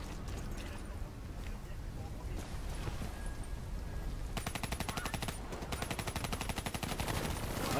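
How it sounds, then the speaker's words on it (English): Rapid automatic gunfire in Call of Duty Black Ops 3 crackles in dense bursts, growing steadier and louder over the last few seconds alongside other game sounds. "I shouldn't have shot."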